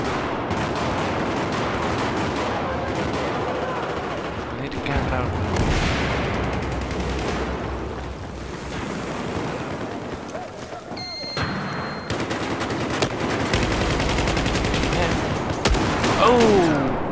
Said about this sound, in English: Being shot from everywhere.